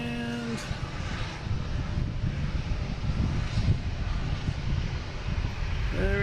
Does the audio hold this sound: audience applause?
no